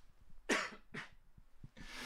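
A man still recovering from a cold gives a few short, dry coughs close to the microphone, with quiet gaps between them, during an indoor live-streamed talk and song event.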